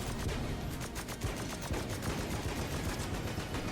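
Rapid gunfire in the roguelike shooter Enter the Gungeon: a dense, continuous rattle of shots at steady loud level with no pauses and no voices.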